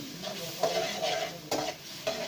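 Egg chingari spices frying in a pan, a steady close sizzle with repeated scraping strokes as the masala is stirred, several sharper scrapes standing out over the continuous hiss.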